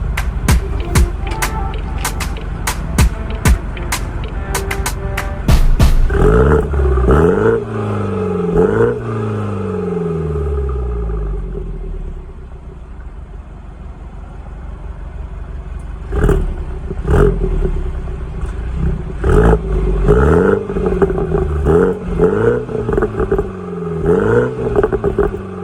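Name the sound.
car exhaust with secondary catalytic converter removed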